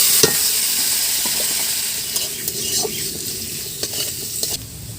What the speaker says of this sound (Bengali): মশলার সাথে আলুটা কষা হয়ে যাওয়ার পর